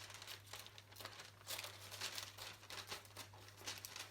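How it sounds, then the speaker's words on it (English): Scissors cutting the edges of a paper shadow-puppet piece, heard as soft crinkling snips and paper rustles spread across the clip, fairly quiet and close, with no voices. "I'm just going to cut the edges of that."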